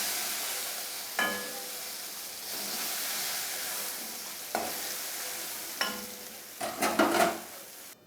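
Shrimp frying in oil in a pan for a bottle gourd dish, a steady close sizzle with a few sharp stirring clatters and a busier crackling flurry near the end.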